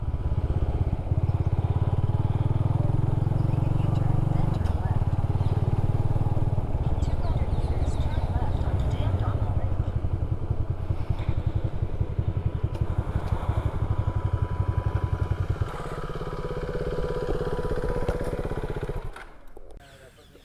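A KTM RC 390 motorcycle engine rumbling close by as the bike is parked beside a lake, a continuous low throb that drops to a quieter idle and then cuts off near the end.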